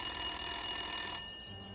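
A telephone ringing with a shrill, buzzy electronic bell tone that holds steady and then cuts off abruptly, leaving a faint hum, with no talk.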